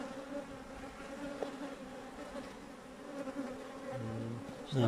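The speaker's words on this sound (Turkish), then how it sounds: "Arkadaşlar ana arıyı bulduk." Honeybees buzzing steadily around the queen in an open hive, a dense close swarm drone throughout with a brief louder flare of nearby wings near the end.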